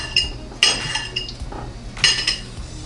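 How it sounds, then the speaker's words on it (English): A knife slices grilled okra on a plate, giving a few sharp clinks and taps of metal against the dish at close range, spaced irregularly across a few seconds. "I'm just going to cut some slices off of this stalk here"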